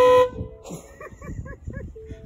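A truck's horn sounding from the rear, caused by a wiring fault with the trailer, gives one loud sustained blast followed by several short beeps and a short final toot, with a voice talking.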